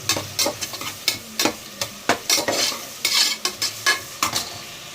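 Rooster meat sautéing in a pan for a Pallipalayam-style chicken dish, with repeated scraping stirs of a utensil over a steady sizzle, close and fairly loud, no talking.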